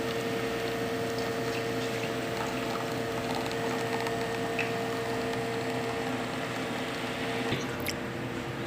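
An espresso machine brews coffee for a cappuccino, giving a continuous close pump hum with bubbling, gurgling liquid throughout, steady and unbroken with no talk.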